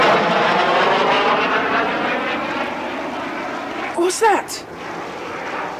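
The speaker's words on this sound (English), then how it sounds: "Oh, it's a plane. Must be from the airfield down there." A propeller airplane flying overhead from a nearby airfield, a loud sustained engine drone that slowly fades as it passes, set in an abridged Famous Five audiobook, with a voice speaking briefly near the end.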